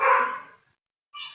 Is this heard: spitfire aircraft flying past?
no